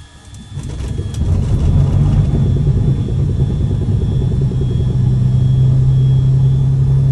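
Twin piston engines of a Cessna 421C Golden Eagle run up from a start, building within the first second to a steady, loud, close-up rumble with a droning hum that holds evenly to the end.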